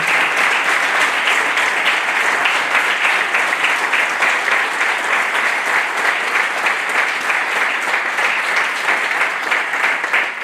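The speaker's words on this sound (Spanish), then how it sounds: "un aplauso para José Manuel Valdemar Serra, que seguro que estará explicando." A dense, sustained round of applause from the audience at a book presentation in Fisterra, loud and even throughout, with many hands clapping together and no voices heard.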